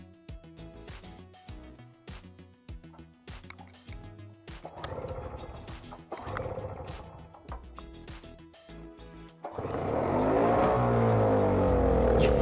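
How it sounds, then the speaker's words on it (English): An MTD snowblower engine sputters on several short bursts of firing, dies between them, then catches and roars loudly while struggling to stay running. No one talks over it. "If I prime it, it starts but it doesn't keep running."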